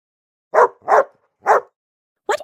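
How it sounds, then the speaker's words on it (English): A dog barks four times, loud, close and clear against silence: three evenly spaced barks, a pause, then a shorter final bark. "it is a dog."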